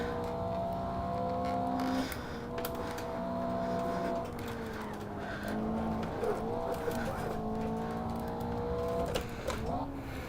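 A Toyota AE86 in Assetto Corsa loses grip and spins around, its engine droning with shifting pitch while tires squeal and scrub, and someone talks over the car throughout.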